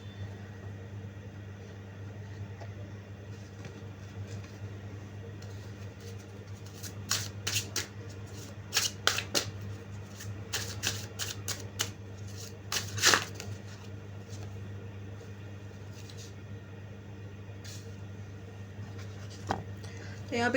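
Tarot cards shuffled by hand during a reading, heard as soft, rapid riffling and flicking in short clusters over a steady low hum, with a voice speaking quietly in the background.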